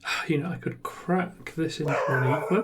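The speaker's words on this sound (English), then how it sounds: "Excuse me, sorry about the dog." A dog barks and yips under a man's continuous speech during a card game played indoors, the short barks partly masked by the talking.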